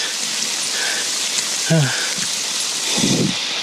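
Steady rain falls on a misty mountain trail on Mount Sumbing via the Garung route in Indonesia, a continuous soft hiss with a brief voice and a couple of low thumps partway through.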